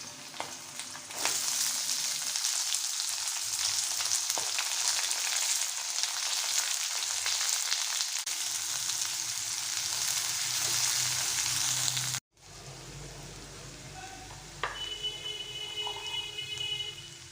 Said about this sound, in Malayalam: ഇതിലേക്ക് നമ്മുടെ പച്ചമുളകും സവാളയും കൂടെ ചേർത്ത് വഴറ്റിയെടുക്കുക